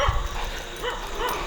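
A dog barks a few times at a distance amid outdoor background noise, the yips short and sharp against a steady low rumble.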